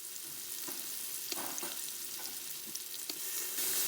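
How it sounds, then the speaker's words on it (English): Onions sautéing in olive oil and melted butter inside an Instant Pot, a steady hiss of frying with a few soft stirring clacks, close and moderately loud, no talking. "First thing I'm going to put in are the onions and let them saute for just a minute or"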